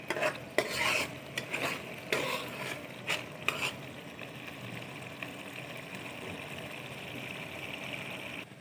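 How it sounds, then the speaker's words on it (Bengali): A spice paste with salt and ground spices is sautéed and stirred in a pan for a fish curry made without onion or garlic. Quick, close spatula strokes come first, then a soft, continuous sizzle settles in. "মশলাটাকে এখন খুব ভালো করে কষিয়ে নিতে হবে।"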